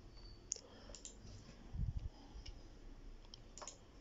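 Light keyboard typing at a computer, a handful of faint, scattered clicks over quiet room hiss with a low thump near the middle.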